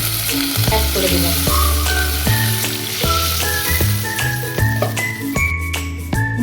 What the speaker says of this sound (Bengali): পাউডারটা দেওয়ার পরেও খানিকটা নেড়ে নেব